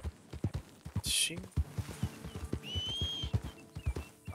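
Horse hooves clip-clopping in a steady walking rhythm inside a ranch roleplay video game, close and distinct, with a short whinny-like squeal and a brief spoken word.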